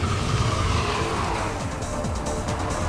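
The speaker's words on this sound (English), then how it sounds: "increase your speed and, loads of understeer, and the car just washes out" A front-wheel-drive car understeering and washing out on a greasy roundabout, its tyres skidding and scrubbing in a steady, loud, continuous roar under engine noise, with no talk.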